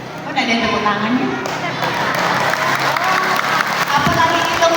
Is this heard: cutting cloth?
no